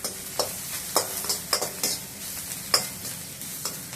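Green chilies fry in a pan with a soft background sizzle, broken by repeated scraping stir strokes at an irregular pace, close and moderately quiet.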